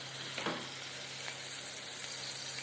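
Oil tempering sizzles steadily in a pan while banana stem palya is being cooked, a close, continuous frying hiss with a brief louder spatter near the start and no talk.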